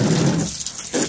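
A steady rush of water hits the floor while a shed is being rinsed during cleaning, a continuous close splashing wash with no speech.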